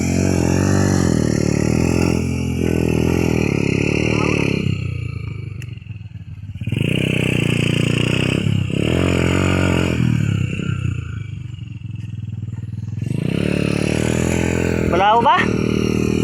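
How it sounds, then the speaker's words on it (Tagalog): A motorcycle engine labours and revs while the rider fights through soft, deep sand at a river crossing and gets bogged down, the loud strained roar rising and falling in surges, with people talking over it. "Kaya kami po pahirapan pa po sa pagtawid ng motor."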